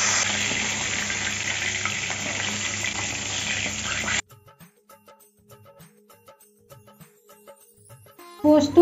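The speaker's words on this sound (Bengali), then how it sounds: "এইভাবে সব মাছগুলি আবার ভেজে নেব।" Pieces of katla fish fry lightly in hot oil with a steady, dense sizzle for about four seconds, then it cuts to near silence broken by faint scattered clinks.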